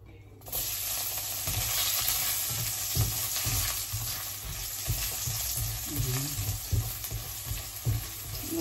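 Garlic dropped into hot cooking oil, a sudden loud sizzle that starts after a brief silence and holds steady, with occasional stirring scrapes in the pan.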